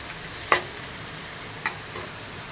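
Chillies, carrots and beans sauté in a pan for tapioca upma. A soft, steady sizzle runs throughout, broken by two sharp spatula taps.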